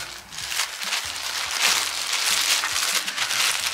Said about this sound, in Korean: 옷걸이 비닐도 잠시 떼주도록 하겠습니다.